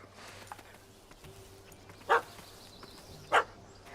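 Two short, sharp dog barks ring out about a second apart in The Witcher 3, over a quiet ambient bed with faint background tones.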